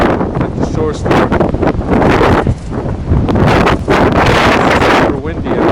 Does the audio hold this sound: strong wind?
yes